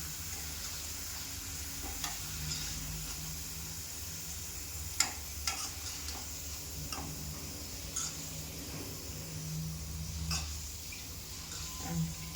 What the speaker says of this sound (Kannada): ನೋಡೋದು ಇನ್ನೂ ಸ್ವಲ್ಪ ಕರೀಲಿದೆ